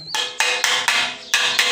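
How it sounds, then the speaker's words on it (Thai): Hammer blows seat a Thai four-way PVC elbow fitting tightly onto a short cut length of PVC pipe for a clothes-drying rack, five sharp, close strikes at an even rhythm with no talking. "ตอกแน่นเลยนะครับ"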